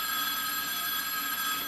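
Continuous electronic telephone ring, a steady bright trilling tone heard close and alone, sustained without a break.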